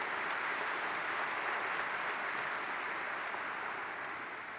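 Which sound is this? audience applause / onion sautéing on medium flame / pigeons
audience applause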